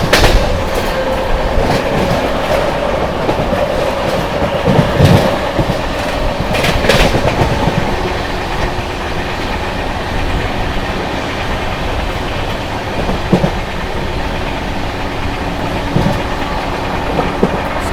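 The 12566 New Delhi–Darbhanga Bihar Sampark Kranti Express passes through Shikohabad Junction without stopping, heard from on board as a loud, steady rumble with rhythmic clickety-clack of wheels over rail joints throughout.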